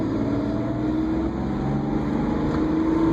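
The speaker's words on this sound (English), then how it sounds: "Shift to second" Heard from inside the cabin, a manual stick-shift car accelerates in second gear, its engine drone rising gradually in pitch, loud and continuous with no talking.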